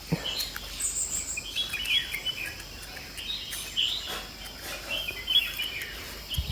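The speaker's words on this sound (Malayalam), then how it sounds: "മൊത്തം കിളികളെ സൗണ്ട് വീട് ചുറ്റും" Outside a house in the early morning, birds chirp and call around the surroundings, with scattered high tweets over a continuous background of cricket-like insect trilling.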